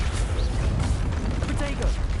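Bombarda explosive spell cast in the video game Hogwarts Legacy, a dense burst of blasts and crackling debris that fills the whole moment, loud and close amid ongoing combat effects.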